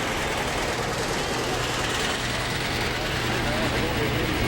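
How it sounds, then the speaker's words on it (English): A John Deere R model, one of the first John Deere diesel tractors, idles steadily at close range, its low, even engine hum running unbroken throughout under a constant broadband wash of outdoor noise. "listen to it purr."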